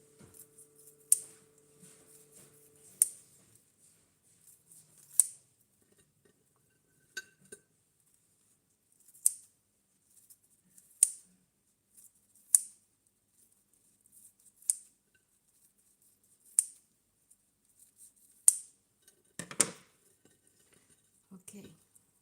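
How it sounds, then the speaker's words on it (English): A knife cuts Hainanese pork chop into smaller pieces, giving sharp isolated clicks against a plate or board at irregular intervals, faint and spaced out with near silence between. "So cut them into smaller pieces."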